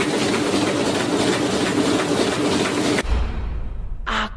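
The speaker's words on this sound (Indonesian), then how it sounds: "Mesin pengepres kayu juga nyala." A wood press machine in a factory runs with a loud, steady mechanical rattle and rumble for about three seconds, then cuts to a deeper thump and a brief higher-pitched whine.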